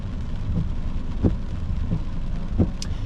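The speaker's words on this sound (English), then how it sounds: "the rainfall just coming in now, just coming through Clear Mountain in towards Strathpine." Thunderstorm rolling in over Clear Mountain toward Strathpine in South East Queensland, with a steady broad wash of rain and low rumble, plus faint repeated thuds, heard alone without talk.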